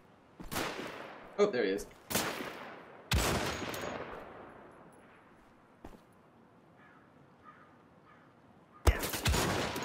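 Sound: enemy gunfire, Wolfenstein: The Old Blood video game

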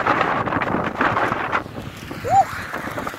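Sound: strong wind blowing

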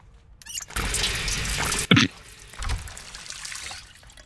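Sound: drinking water from a sink in Project Zomboid video game

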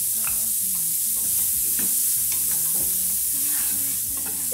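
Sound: garlic and chopped onion sautéing in a pan

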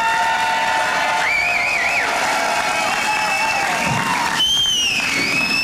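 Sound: audience applause at an awards ceremony

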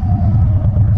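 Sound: Harley-Davidson Dyna Wide Glide motorcycle exhaust rumbling

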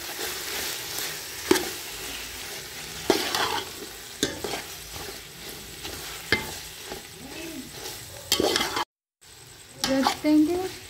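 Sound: stirring masala into frying karela (bitter gourd)

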